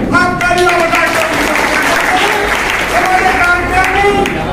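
A crowd at the opening of a Congress party regional office in Lalganj, Mirzapur, claps loudly to welcome a party official, with someone speaking over the continuous applause.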